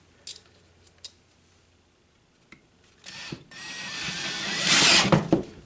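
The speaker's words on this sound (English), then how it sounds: "Easy way to cut a screw, set of bolt cutters." Bolt cutters bite through a screw at a workbench during knife-scale mold construction. A few sharp isolated clicks come first, then close, straining crunching and scraping that builds before the cut.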